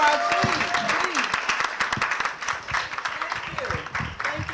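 An awards-event audience at a Los Angeles hotel applauds in a brisk, crowded burst of clapping, while voices speak and call out over it near the start.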